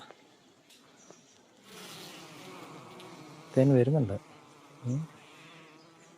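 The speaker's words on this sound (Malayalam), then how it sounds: "ഇതിനകത്ത് ആ മഞ്ഞ കളറുള്ള തേനീച്ചയുണ്ട്." Small yellow honeybees hum faintly around their honey-filled hive, a soft steady buzz heard nearby, interrupted by brief bursts of a person speaking.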